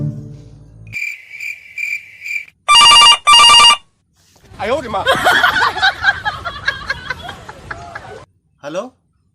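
A phone rings with a bright electronic ringtone, first in a short repeated pattern and then in two loud sustained bursts, before people start talking.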